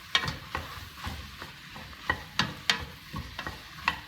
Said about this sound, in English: Now I will mix this and essentially toast the spices.